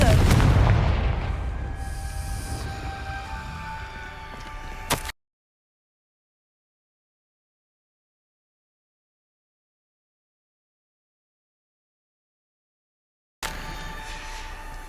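Confringo fire-spell explosions from the video game Hogwarts Legacy: a loud, booming blast opens the clip and rumbles for several seconds, then drops to total silence before game ambience returns near the end.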